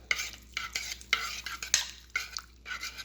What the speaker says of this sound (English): We're going to mix it together.